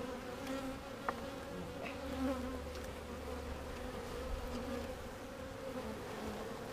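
Honey bees buzz steadily during a beehive inspection, a continuous close droning hum of many insects with a few brief clicks, and no talk.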